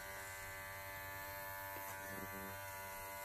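Electric clippers fitted with a 5-in-1 blade and a 2 comb trim a Springer Spaniel's back coat, giving a steady, close, continuous motor buzz with faint tonal hum and no speech.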